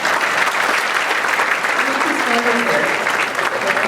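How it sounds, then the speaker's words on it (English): A conference audience gives a round of applause for a participant, a loud continuous wash of many hands clapping, with voices faintly mixed in beneath the clapping. "A round of applause for Veronica."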